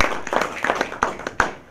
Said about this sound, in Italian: Può applaudire.